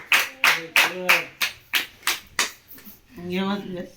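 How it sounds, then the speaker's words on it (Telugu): Hands clap loudly and steadily, about ten sharp claps in an even rhythm close by, at a birthday gathering, followed by a voice speaking. "ఏమై గట్టిగా క్లాప్స్"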